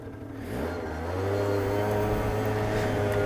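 Engine rising in pitch as it accelerates, heard as a close, loud, steady drone that climbs within the first second and then holds.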